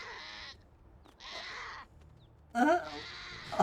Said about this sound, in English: It's the sickest sounding sheep.